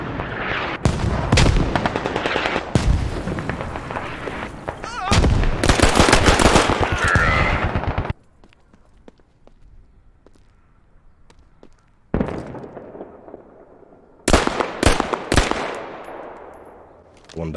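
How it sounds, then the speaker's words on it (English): Mortar and gunfire in the military shooter game Squad: loud repeated blasts and rapid bursts crowd the opening seconds, then a near-silent lull, then more sharp explosive impacts close by, with no talk. "Those are good mortars."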